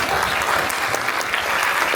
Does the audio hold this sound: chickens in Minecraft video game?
no